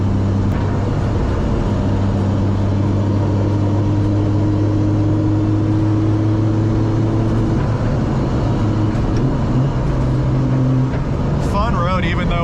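A 500 horsepower Nissan 240SX drones steadily from inside the cabin as it cruises and is held in fifth gear, a loud continuous engine and road rumble with a person talking over it.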